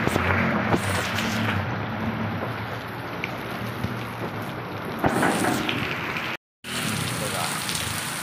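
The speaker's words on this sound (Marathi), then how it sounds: "बाहेर खूप म्हणजे खूप पाऊस झाला आता." Heavy monsoon downpour outside, a dense, steady roar of rain that stays loud and constant throughout, broken only by one brief dropout near the end.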